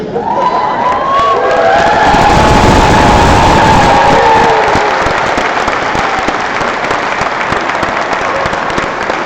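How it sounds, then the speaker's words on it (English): Loud, sustained audience applause with some cheering fills a graduation ceremony hall at UWC Dilijan as the class of 2017 processes out, steady clapping throughout. "We applaud you as you process out on your journey beyond UWC Dilijan."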